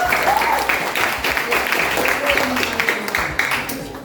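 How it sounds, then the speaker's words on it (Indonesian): Classroom applause in a university philosophy and logic lesson, steady mixed clapping from students filling the room for about four seconds, with voices audible over it. "Tepuk tangan dulu buat siapa?"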